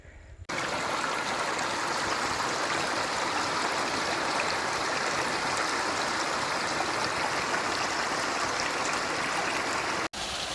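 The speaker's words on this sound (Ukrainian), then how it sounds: "дійшли ми до Сукільського водоспаду" Steady, broadband rush of the Sukil waterfall, loud and constant throughout, with no voices.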